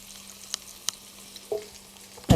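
Potatoes frying in oil in a pan, giving faint scattered pops and crackles over a quiet background, ending in a louder burst of sizzle.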